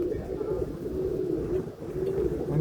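Pigeons kept for racing and breeding coo continuously at close range, with low throaty warbling calls rising and falling in repeated phrases throughout.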